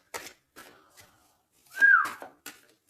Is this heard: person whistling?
yes